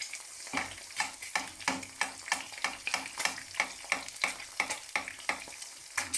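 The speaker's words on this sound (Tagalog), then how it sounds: "Una ako ay nagpainit ng mantika." Oil warming in a pan over a low flame for a breakfast fry crackles and spits in a steady series of soft, repeated pops and sizzles, close and fairly quiet with no voices.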